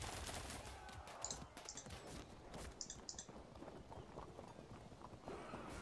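Faint, crackling musket volleys and scattered gunfire rattle from a medieval battle in the strategy game Field of Glory II, with hoof-like clatter mixed into a dense, distant battlefield din.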